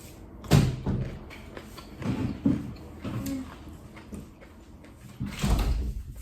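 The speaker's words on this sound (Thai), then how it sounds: "ปิดประตูหน่อยลูกมันดัง" An indoor door is pushed shut at home, with a sharp thud early on, then several softer knocks and rattles, a few bumps near the end and faint voices in the background.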